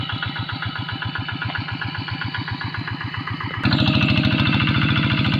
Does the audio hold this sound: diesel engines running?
yes